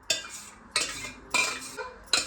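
Pumpkin mixture for Marathi gharge being scooped into a wide tray with a metal spoon: four distinct clinking scrapes of spoon against the vessel, evenly spaced, each followed by a soft sloppy slide, close and fairly quiet.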